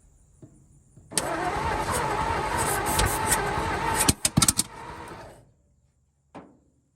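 A 1949 Ford truck engine cranked after decades of sitting, the starter grinding steadily for several seconds, then stuttering bursts and catches before cutting out to quiet, with a brief final crank.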